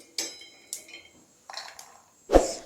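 Roasted peanuts tipped from a pan into a mixer jar, heard as a few separate bursts of rattling and clinking against the jar, then one louder clattering thump at the end, close and with no talk.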